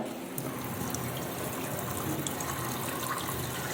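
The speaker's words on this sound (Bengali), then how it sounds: "সবাইকে মুখ ধুয়ে দেখাচ্ছে" Tap water runs steadily as a child washes their face at a sink, a continuous close splashing stream with faint drips and no talking.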